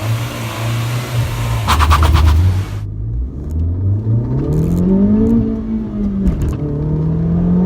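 A turbocharged Honda Civic Type R hatchback roars close by as it races around Cadwell Park racetrack, its engine revving, dropping pitch at a gear change, then climbing again under load.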